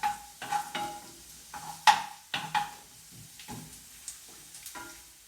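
Garlic fries in a pan with a light sizzle while a utensil stirs it, giving a string of sharp scraping clicks and knocks at an uneven pace, close up, with no talking.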